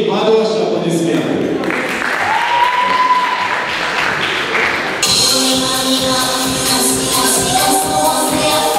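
Audience applause for a KVN team at a comedy final, loud continuous clapping that mixes with music and crowd noise, swelling sharply halfway through.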